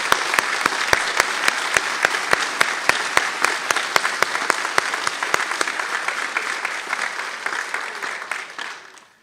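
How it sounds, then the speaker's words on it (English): Loud audience applause at a veterinary school white coat ceremony, a dense round of clapping with distinct close claps early on, then a long fade as it dies away. "Please join me in giving them a round of applause."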